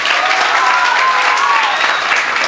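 Loud, continuous applause from a large audience at a Holi Milan celebration, greeting a teacher who is being honoured. The dense clapping holds evenly close by for the whole stretch, with only faint traces of voices mixed in.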